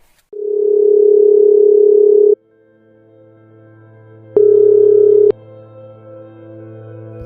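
An unanswered phone call in an animated school drama sounds as a steady electronic ringback tone: one long tone, a pause, then a shorter tone, loud and clean over a low hum.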